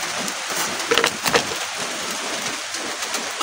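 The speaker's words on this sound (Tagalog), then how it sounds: "Ang lakas ng ulan." Heavy rain pours steadily outdoors at night, a dense continuous hiss with a few brief louder knocks and splashes rising above it.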